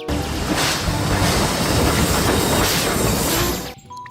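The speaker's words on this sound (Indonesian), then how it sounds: "Wow, kereta Thomas." A Thomas toy train gives a continuous, close rattling clatter like rolling wheels on track, which stops abruptly at the end.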